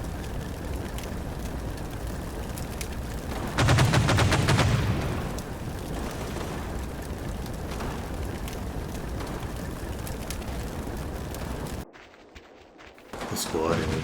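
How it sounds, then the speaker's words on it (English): Gunfire and 20mm cannon fire in the WWII Normandy wargame Combat Mission, a dense burst of rapid shots for a couple of seconds over a constant battle din, with talk running through and a short drop near the end. "Shoot, man, shoot! You've got a 20mm cannon,"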